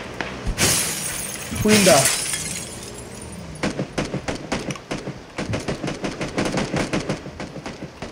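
Gunfire in the video game PUBG Battlegrounds with a VSS rifle: a sharp crack and breaking sound early on, then a steady rapid run of suppressed shots, with a player talking over the top.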